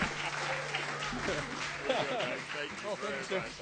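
Applause from the audience at the 2011 Irish Music Awards, a steady broadband patter running through the whole stretch, with voices talking over it and a faint low hum.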